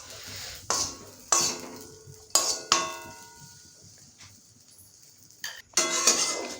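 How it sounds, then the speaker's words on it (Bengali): Cashews and raisins frying in ghee in a pan, stirred with sharp metal scrapes and clinks against the pan at irregular intervals over a soft continuous sizzle, close and clear. "এবার দুটো ভালোভাবে ভেজে নেব ঘি দিয়ে"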